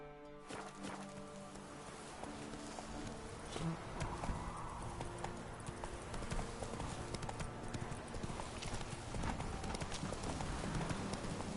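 Roach the horse's hooves clip-clop in the video game Witcher 3, a steady trotting rhythm over continuous outdoor game ambience with insect buzz.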